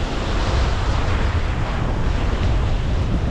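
Strong wind blowing across a seaweed-strewn sea shore, roaring and buffeting the microphone steadily, with surf rumbling underneath.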